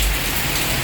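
Steady rain pours down close by in a Philippine outdoor setting where a boy bathes in it, a dense, even hiss with no pauses throughout.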